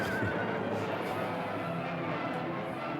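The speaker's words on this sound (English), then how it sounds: "Horse looks like Stallone" A horse whinnies amid a noisy battle scene in an old sword-and-dragon film, the neigh rising over a dense, rough background of hooves and commotion.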